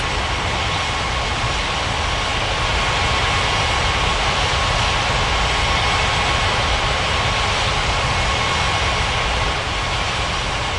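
An airliner roars down runway 35 right at Capeville City International in an air traffic control video game, a loud, steady jet engine rumble with a broad hiss that holds unchanged throughout, with no speech.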